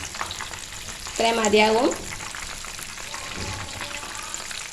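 KFC-style chicken deep frying in hot oil, a steady crackling sizzle running throughout at even loudness, with a brief pulse of stronger bubbling partway through and a few quiet words spoken over it.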